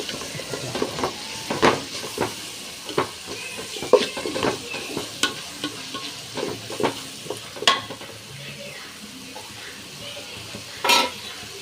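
Mint and masala powder sauté in a pan for mutton biryani, with a soft steady sizzle broken by repeated scraping and clinking stirs of a spoon, fairly close and with no talking.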